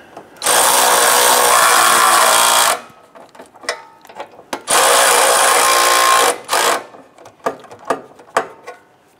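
On a Jeep Grand Cherokee 3.6L V6, a power tool runs bolts in with two sustained loud bursts of whirring, each followed by short clicks and clatters of handling between them.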